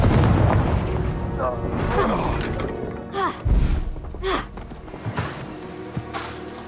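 Confringo fire spell blasts in the video game Hogwarts Legacy, several heavy booming thuds and bursts over a busy game soundscape, with a voice speaking among the impacts.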